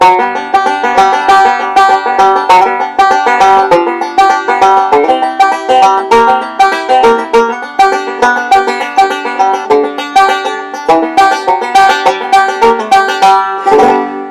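A banjo plays a quick alternating-thumb walk-up to G with a steady, bouncing rhythm, notes ringing bright and close.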